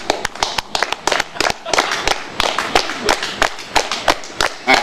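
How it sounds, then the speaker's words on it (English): An audience at a stand-up comedy show claps along in a steady, loud rhythmic beat, sharp individual claps repeating evenly for several seconds with a voice faintly present underneath. "Start clapping with me."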